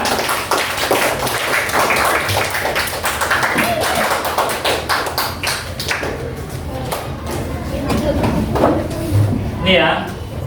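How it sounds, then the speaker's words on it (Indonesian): Clapping from a class of students after a primary-school lesson on fractions, a dense patter of hand claps through the first half that thins out toward the end, mixed with voices and room noise. "beri tepuk tangan untuk kita"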